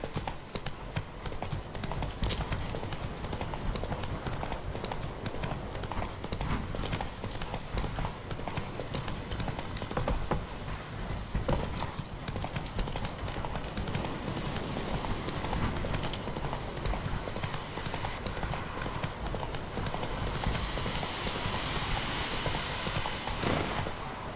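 Horse hooves galloping in The Witcher 3, a steady rapid clip-clop that runs unbroken for the whole stretch at moderate level, with game ambience underneath.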